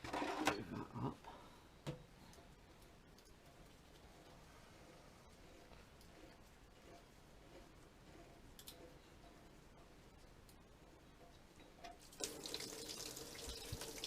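Water trickles and splashes faintly for a while from a Kubota B1750 tractor engine with core plugs removed, then gushes out more strongly toward the end, with a few clicks and knocks.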